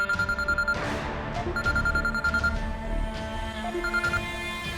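An incoming call ringing on a phone in a tense indoor drama scene, repeated electronic ring bursts with short gaps over a low background hum.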